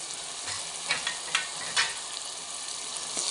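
Masala spices fry in hot oil for a chicken masala curry, a steady close sizzle broken by a few sharp scraping stirs, with no voices.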